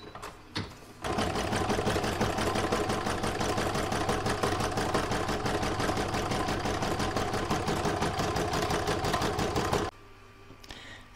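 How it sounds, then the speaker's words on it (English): A sewing machine runs a quilting stitch in one steady, fast-whirring burst of about nine seconds, close and alone, with brief handling noises before and after. "And now the quilting stitch."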